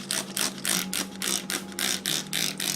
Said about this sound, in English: use my sprayer and spray them real good